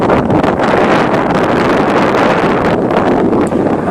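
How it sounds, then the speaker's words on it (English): Heavy wind buffets the microphone in a constant loud rumbling roar, with no other sounds breaking through. "I know it's windy."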